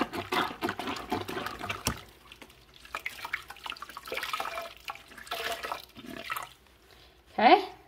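Running water splashes and sloshes while a floor cleaning fibre is rinsed out under a tap, with irregular bursts of dripping and wringing and a louder splash near the end, and no talk over it.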